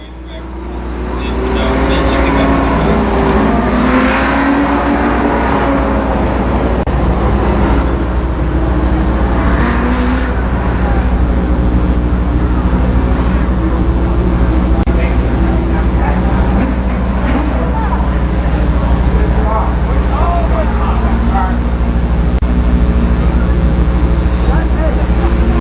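Late model stock cars run a ten-lap heat race at Columbus Motor Speedway, a constant loud roar of engines from several cars filling the track throughout, with an announcer's voice over the top.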